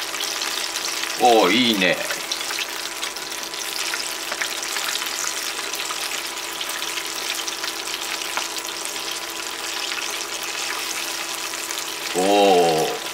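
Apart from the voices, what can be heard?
frying chicken karaage pieces in pan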